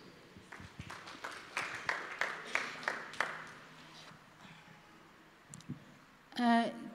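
A church congregation at a Sunday service claps for Jesus in a short run of about nine steady, evenly spaced claps that fade out, followed by a quiet pause and a brief burst of sound near the end.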